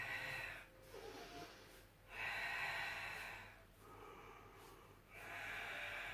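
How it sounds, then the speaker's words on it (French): Heavy, audible breaths during an abdominal workout: three long exhalations alternate with pauses in an even, slow rhythm, close and clear with no talking over them. "Je dois vous entendre respirer."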